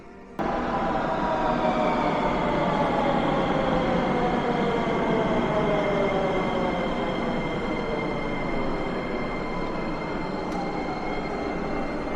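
A metro train pulls into a station in Sofia, Bulgaria, a loud close rumble with squealing wheel tones that slowly fall in pitch as it brakes, and no talking.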